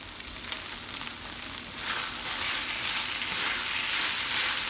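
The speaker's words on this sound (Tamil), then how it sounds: "ஒரு 5 மினிட்ஸ் வதங்க விட போகிறேன்." Chilli chicken sautéing in a hot pan, a continuous hissing sizzle that swells louder partway through and holds steady, close and alone without talk.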